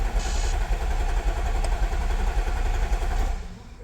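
A 2014 Audi SQ5 turbo diesel that will not start cranks over steadily, giving a continuous low mechanical churn with a faint rhythmic pulse before it fades out at the end.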